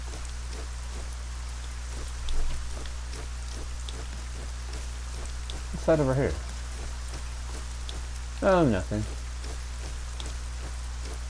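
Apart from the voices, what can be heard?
heavy rain in video game ArcaniA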